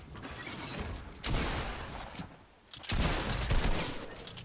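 Rapid bursts of gunfire from the video game Fortnite crackle in two dense rolling volleys separated by a short lull, loud and close with mechanical clatter.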